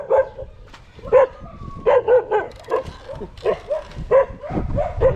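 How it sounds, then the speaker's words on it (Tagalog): Several dogs bark and yip in quick, repeated bursts, close and loud, with some whining between barks. "aso"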